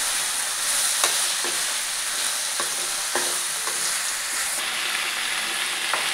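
Cluster beans frying in a pan, stirred with a utensil, giving a steady broadband sizzle broken by repeated short scraping strokes at an irregular rhythm, close by, with no talking.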